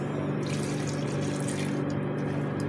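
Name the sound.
pouring water into beef stick boti mixture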